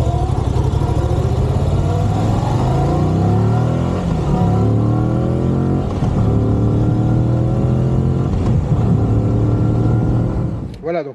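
A Moto Guzzi V85TT motorcycle engine revs loudly and continuously, its throttle rising and falling in repeated sweeps, close up and steady, with no talking over it.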